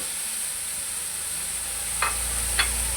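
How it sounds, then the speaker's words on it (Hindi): Onion sizzling in a frying pan while being cooked lightly for a chicken macaroni dish, a steady soft hiss with two brief louder crackles near the end and no voices. "ये देखें ये डाल देते हैं प्याज। इसको भी हमने हल्का सा फ्राई करना है"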